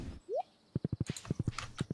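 Horse hoofbeats in the Stardew Valley video game: a short rising whinny, then a brisk, even run of about a dozen crisp clip-clop steps close by, with no talking.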